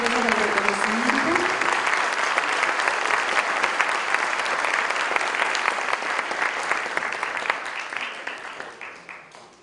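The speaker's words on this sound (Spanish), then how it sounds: "Un aplauso, por favor." Sustained audience applause at a university IT governance conference, a dense wash of many hands clapping that fills nearly ten seconds and tapers slightly toward the end.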